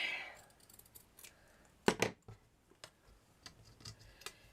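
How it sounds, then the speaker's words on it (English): Scissors trimming a handmade Christmas tree craft decoration, a few distinct close snips and crisp clicks, with the loudest pair of cuts in the middle, among soft rustling of paper in a quiet room. "Let me just trim that one down a little bit."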